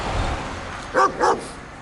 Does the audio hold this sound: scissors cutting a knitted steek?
no